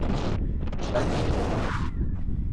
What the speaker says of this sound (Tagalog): Kung naririnig nyo yung hangin, alright, napakalakas.